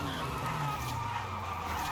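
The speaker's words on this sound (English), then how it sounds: "It's just going sideways." A car drifting sideways in Forza Horizon 5 gives a steady, loud tire skid layered over a droning engine note, continuous for two seconds with no voices.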